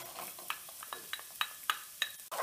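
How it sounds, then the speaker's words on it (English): Onion and garlic sautéing in a pan, a soft sizzle broken by a string of sharp clicks and scrapes as a utensil stirs, each stroke distinct and close. "we're going to kind of saute our onion"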